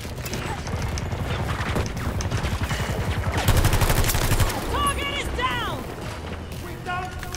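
Rapid automatic gunfire rattles in a video game shooter, with bursts of fast repeating shots and mechanical clatter amid explosions and other game effects.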